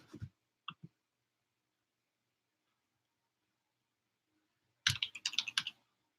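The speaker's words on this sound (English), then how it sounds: "Now my keyboard is under the table." Brief burst of typing on a computer keyboard while setting up a 2015 Mets Strat-O-Matic baseball game, a quick flurry of close key clicks after long silence, with two tiny taps earlier.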